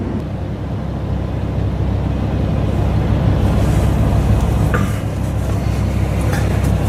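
A Lamborghini Huracan LP610-4 moving away with a steady, loud engine and road roar that stays continuous throughout, with no voices heard.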